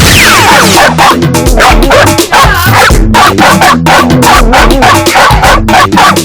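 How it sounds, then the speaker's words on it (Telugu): Loud, dense layered sound with repeated yappy dog barks mixed into music-like clutter, harsh and close throughout. "అది కుక్క."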